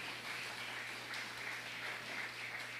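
A church congregation applauds during a service, a steady wash of many hands clapping that stays faint and distant throughout.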